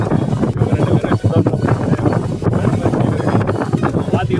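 Strong, steady wind roars and buffets the microphone on top of Theerthamalai hill, a continuous loud gusting rush with a voice faintly mixed in.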